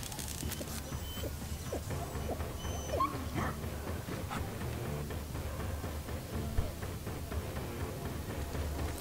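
A dog whimpers in the Splinter Cell: Blacklist video game: faint, thin whines over a steady bed of game ambience and low rumble, with scattered ticks and clicks throughout.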